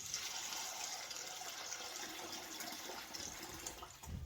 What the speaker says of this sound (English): Put some water in then.